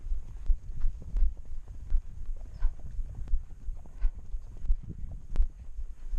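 A horse trots under a rider in an equestrian schooling session, hooves clip-clopping in a steady, muffled rhythm close by, with low throbbing movement noise and no talk.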